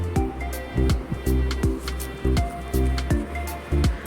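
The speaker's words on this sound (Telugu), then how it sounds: "కొంచెం కొంచెం వాటర్ని యాడ్ చేసుకుంటూ బాగా కలుపుకోవాలి." Rice flour dough is worked by hand with small additions of water, producing rhythmic, close squelching squishes about every half second.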